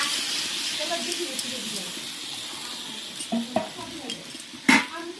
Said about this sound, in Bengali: এখানে সেই সিদ্ধ করা আগে থেকে সিদ্ধ করা মাছের ডালটা এখন দিয়ে দেবো মশলাটাতে